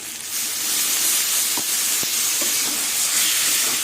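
Water poured into a hot pan of frying cumin, coriander, chilli and turmeric powder sets off a loud, steady sizzling hiss with a few soft knocks, and no voices.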